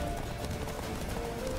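Horse hooves clip-clop at a fast gallop through a forest in an audio drama, steady, close and continuous, with a faint whinny in the dense rumbling mix.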